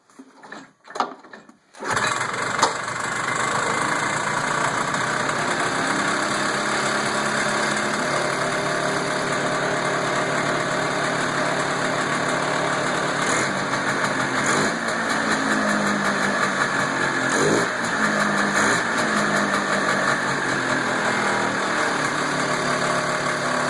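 A 1978 Yamaha ET 250 snowmobile engine with a freshly swapped carburetor catches after a brief start and settles into a loud, steady idle, running evenly and close throughout with no voices.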